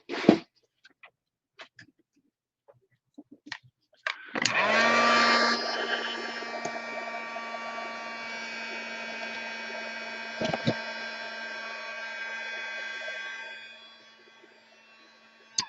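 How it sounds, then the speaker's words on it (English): After a few faint taps, a heat gun starts with a sharp whoosh and blows with a steady, loud whirring hum for about nine seconds over a watercolor card, then winds down and stops. "I'm just going to get my heat gun and make sure all that watercolor is dry"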